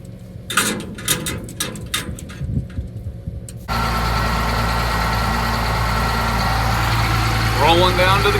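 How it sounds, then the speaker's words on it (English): An old tractor engine idles while warming up before hauling a 1,000 bushel grain cart at harvest, a loud steady low rumble that starts abruptly partway in, after a stretch of rustling and clatter. "Love this old tractor. We'll let her warm up a minute"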